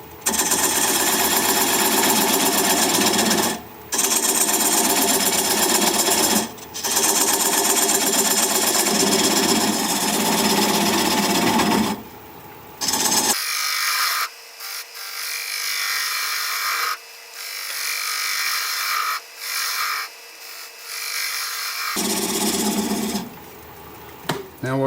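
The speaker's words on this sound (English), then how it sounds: "I'm going to use a 3/8 inch standard grind bowl gouge and begin to removing the tenon." A 3/8 inch standard-grind bowl gouge cuts the tenon off a cork oak bowl spinning on a wood lathe, giving a loud, steady whirring and scraping drone that breaks off several times and goes quiet at intervals.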